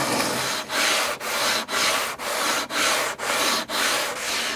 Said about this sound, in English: which will sand down nicely.